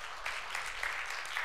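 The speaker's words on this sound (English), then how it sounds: "You can clap." A church congregation claps briefly, a moderate, uneven patter of hands.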